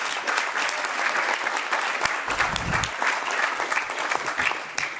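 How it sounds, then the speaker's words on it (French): An audience in a European Parliament event room claps steadily and densely throughout, a sustained wave of applause filling the room with no pauses. "Vous pouvez applaudir."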